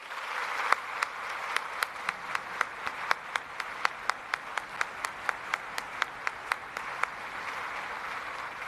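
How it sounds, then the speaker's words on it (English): Audience applause at a Chief of Defence Force change of command parade: a steady wash of clapping with a few sharper, regularly spaced claps standing out, moderately distant, lasting the whole stretch without talk. "Will you join me in giving him another round of applause?"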